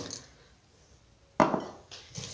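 Cookie dough with black and white raisins being stirred in a bowl, quiet scraping followed by a sharp clink of utensil against the bowl and a couple of softer knocks.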